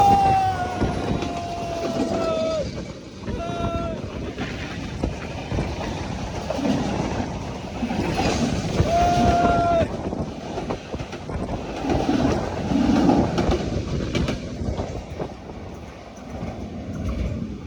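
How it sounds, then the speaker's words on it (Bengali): A train rumbles past close by on a railway through the Chalan Beel wetland in Bangladesh, wheels clattering steadily with occasional high metallic squeals, the roar swelling and holding throughout. "এই যে ট্রেন আসতেছে, চলন বিলের মাছ দিয়ে ট্রেন আসতেছে"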